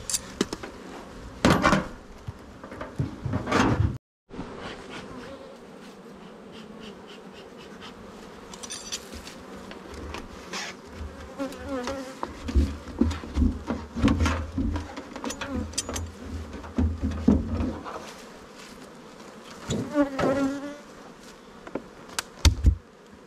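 Honey bees buzzing around a beehive during a late-summer honey harvest visit, a steady close swarm drone with louder passes near the ear, occasional knocks and handling noises, and a brief dropout early on.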